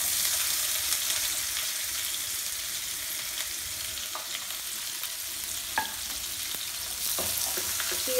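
Chopped onion frying in hot oil with bay leaves and a cinnamon stick for an Odia-style egg curry, a steady close sizzle throughout with occasional stirring clicks and scrapes.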